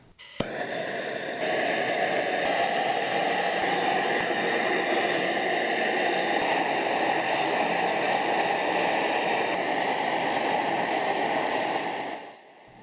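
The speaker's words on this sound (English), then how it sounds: "For the heat treatment, I'll use a MAP gas torch and a paint can forge." A MAP gas torch fires into a paint can forge to heat treat a recurve Bowie knife blade, giving a steady, loud, close-up roar that holds for about eleven seconds before cutting off.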